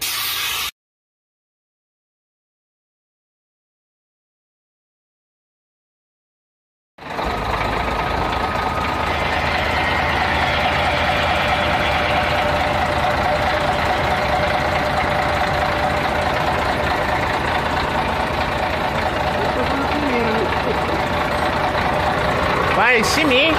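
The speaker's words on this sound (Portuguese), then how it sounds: "Silencioso o motor dele." A Nielson Diplomata 350 K112 CL bus engine idles close by with a steady, even rumble that runs unbroken after a brief silent gap at the start, while a person talks over it.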